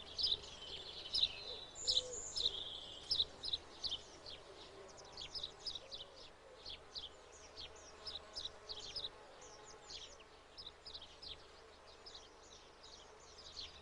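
Grey wagtail, a bird of fast rocky hill streams, calls with sharp high chirps in repeated bursts beside a farm dung heap, fairly near over a steady outdoor hum, with faint insect buzzing.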